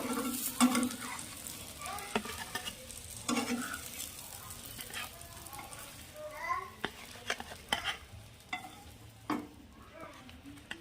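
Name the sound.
eggplant slices frying in oil in a pan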